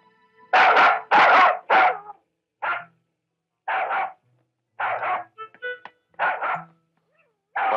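A dog barks in short loud bursts, a quick cluster of three barks followed by scattered single and paired barks with brief quiet gaps between them, close and clear against a silent background.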